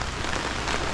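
Steady rain pours down outdoors on a wet morning, a dense, even hiss of drops hitting surfaces, close and fairly loud, with no voices.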